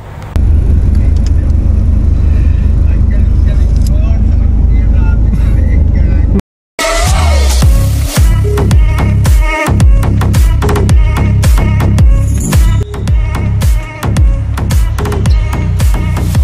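Heavy road traffic in Dubai rumbles from inside a taxi, a steady low drone of engines, then after a brief break louder passing vehicles and clattering sounds with people talking over it.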